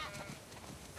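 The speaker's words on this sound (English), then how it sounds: "We definitely have way too many sheep." Sheep bleat faintly in a video game farm setting, a few soft, scattered calls low in the mix.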